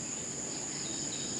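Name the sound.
crickets chirping at a campsite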